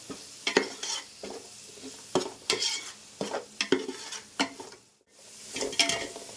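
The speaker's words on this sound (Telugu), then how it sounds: "ఇవన్నీ మసాలాస్ వేసుకొని బాగా ఫ్రై చేసుకోవాలండి" Spice masala for egg pulao fries in a pan, with a soft sizzle broken by bursts of a spoon stirring and scraping at an uneven rhythm, close up and with no talking.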